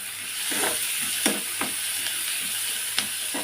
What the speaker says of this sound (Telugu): ఇప్పుడు ఉల్లిపాయలు ఎండ్రేలు కలిపి మగ్గించుకుందాం